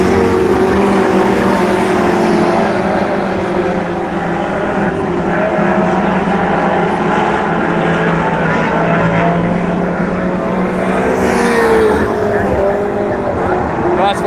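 Mini stock race cars roaring around Buxton Speedway during a heat race, a loud continuous engine drone with shifting pitch as the pack passes, steady throughout.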